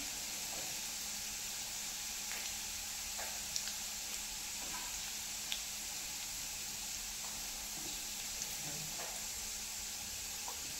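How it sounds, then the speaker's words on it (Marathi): Garlic roasting in oil in a pan for mixed sprouts curry, a steady soft sizzle and hiss with faint scattered pops and crackles, continuous throughout and without speech. "आणि लसूण थोडासा छान असं भाजून घ्यायचा, गडबड करायची नाही"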